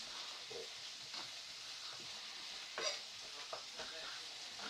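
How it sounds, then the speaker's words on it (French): Chopped onions softening in a hot frying pan give off a faint, steady hiss, with a few light clicks of a utensil. "vous faites revenir vos oignons comme à l'habitude"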